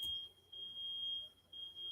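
A talking household fire alarm gives off a steady, piercing high electronic tone that runs the whole time, with faint room noise underneath and no voices.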